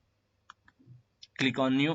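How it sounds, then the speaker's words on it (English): A computer mouse clicks a few times while Windows path variables are being set, sharp isolated clicks with short gaps, followed by a person starting to speak. "just find path and double click on it and just click new"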